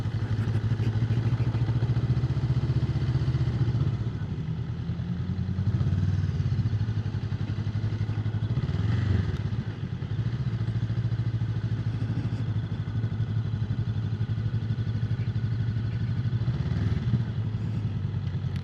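A motorcycle rides slowly through heavy traffic, its engine holding a steady close low drone that swells slightly as the rider shifts up from first into second gear; no talk is heard.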